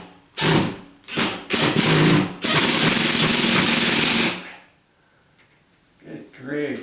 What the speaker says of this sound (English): I've got a ratcheted type drill, handheld, like that